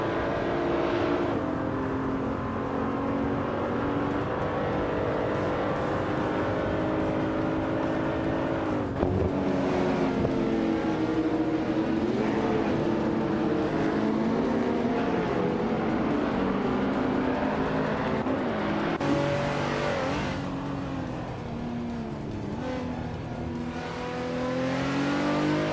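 Several race car engines rev hard and continuously during a race, their pitch climbing and falling through gear shifts as cars pass close by, loud and sustained for the whole stretch with no talking.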